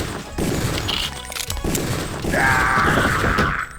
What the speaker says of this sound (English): I can't believe he just opened fire on us like that